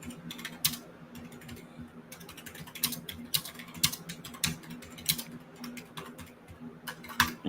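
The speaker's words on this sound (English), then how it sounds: "Is that you typing?" Typing on a computer keyboard, irregular bursts of crisp key clicks over a faint steady electrical hum, close and moderately quiet, with no talking.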